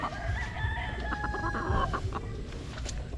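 A Jogo Gray chicken crows and clucks nearby, a clear rooster call drawn out over a steady farmyard background.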